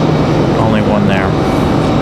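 Frontier Airbus A321neo jet arriving from LaGuardia at Raleigh-Durham, a steady loud broadband engine roar filling the whole moment, with a voice speaking briefly over it.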